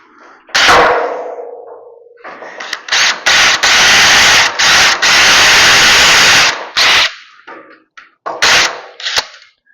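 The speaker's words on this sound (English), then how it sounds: "When you're drilling these rivets out" A power drill whines in repeated loud bursts, starting and stopping with short gaps, drilling out metal rivets on a Stokes tripod orchard ladder, with harsh grinding and a sharp clack.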